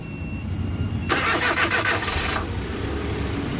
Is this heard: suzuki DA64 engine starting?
yes